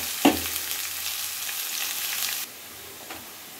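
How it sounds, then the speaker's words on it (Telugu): Onion, cabbage, capsicum and beetroot are stir-fried in oil, with a loud sizzle and a stirring clatter near the start. The sound fades to a quieter simmer partway through, with no talking. "వెజిటేబుల్స్ని కలుపుకుంటూ కుక్ చేసుకోవాలండి"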